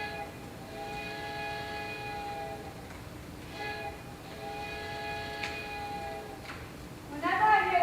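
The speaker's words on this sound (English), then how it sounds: "Whenever I hear that train coming into town, I always get this feeling of excitement." A train horn sounds from a distance as a train comes into town, its chord of steady tones held for long stretches, broken by short pauses, with a louder burst of other sound at the very end.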